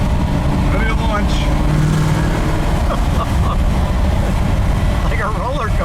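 A black 1960 Chevrolet Biscayne with a 496 cubic-inch V8 launches and accelerates hard, its deep engine roar loud and continuous from inside the car. Voices of riders can be heard over the engine.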